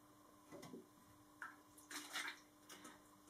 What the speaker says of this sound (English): That's my little spray bottle